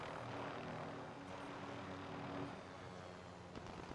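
A video game helicopter drones away with a steady rotor and engine hum, fairly quiet and unbroken for a few seconds with no talking.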